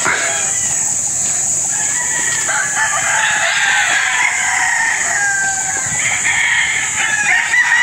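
Polish Park Grays gamefowl roosters on a Philippine game farm crow loudly and continuously, with calls overlapping from several birds and clucking mixed in against a steady farmyard background.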